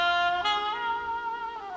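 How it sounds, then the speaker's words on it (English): A saxophone plays sustained melodic notes with rich harmonics, shifting pitch a couple of times in a short continuous phrase, alone and at a steady level. "Then, saxophone music."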